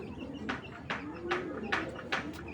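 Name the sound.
pigeons cooing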